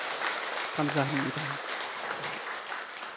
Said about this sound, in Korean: 우리 찬양대를 위해서 우리 박수로 다시 한번 우리 축복해 주시기 바랍니다